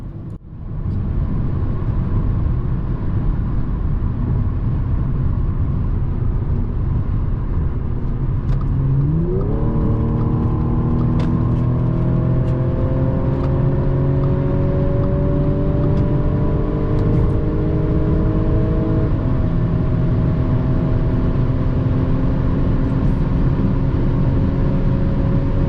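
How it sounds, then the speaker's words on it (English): An Audi S4 roars steadily on a highway in Mexico during a top-end run, its engine note climbing through a long pull, then shifting up and climbing again, loud and close with a constant rush of wind and road noise. "the driver decided to get a top end run in the vehicle"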